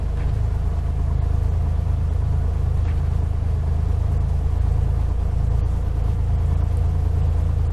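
A Cessna 182 piston engine in Flight Simulator X drones with a steady low rumble as the throttle is nudged up slightly, a constant close engine hum with no talk over it.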